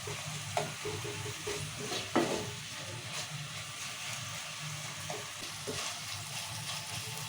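Chillies and onions fry in oil in a pan for upma, giving a continuous soft sizzle with occasional stirring scrapes and light clinks, close by and with no one speaking.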